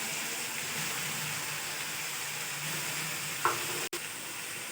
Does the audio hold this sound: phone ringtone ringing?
no